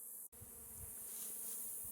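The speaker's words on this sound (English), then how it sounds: "now the new bees are orienting" Honey bees from a sick, mite-ridden hive buzz at the hive entrance in mid-October, new bees orienting, a soft steady hum of many wings with a brief dropout near the start.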